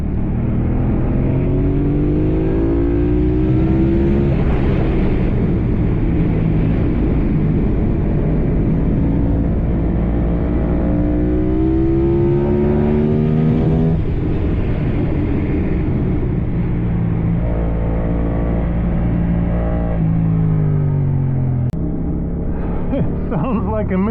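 Yamaha R7 motorcycle with an aftermarket intake and ECU flash, engine pulling hard out of a corner with rising, stepping revs through the gears, loud and close throughout, with wind rush over it.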